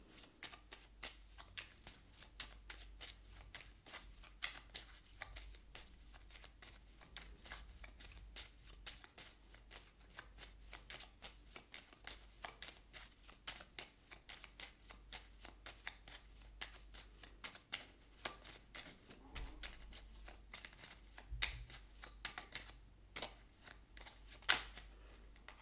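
Oracle cards are shuffled and drawn for a Scorpio reading, a steady run of soft, rapid papery flicks and riffles lasting throughout, quiet and close with no voices.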